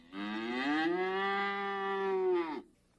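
A cow gives one long, loud, close moo lasting about two and a half seconds, rising slightly at the start and ending abruptly, with nothing else around it.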